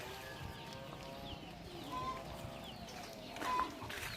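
Loose chickens on a farm cluck in soft, scattered bursts, medium-near against a steady outdoor background hum, with faint voice-like sounds mixed in.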